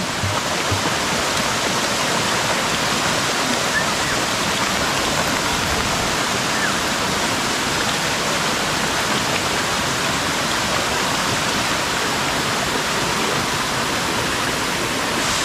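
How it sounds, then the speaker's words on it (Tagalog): A loud, constant roar of heavy rain and rushing flood water, dense and unbroken from start to finish with no voices. "bumuhos yung malakas na ulan at saka malakas na baha"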